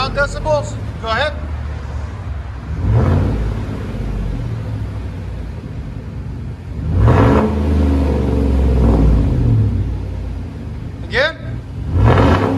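Rumbling idle of a Chevy/GMC 5.3L V8 on a single straight-pipe exhaust, broken by two loud throttle blips that roar up and settle back, while people talk intermittently nearby.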